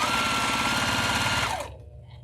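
A sewing machine stitches a quilt block at a steady, moderate pace, its motor whirring continuously with a rapid needle rhythm before winding down and stopping near the end.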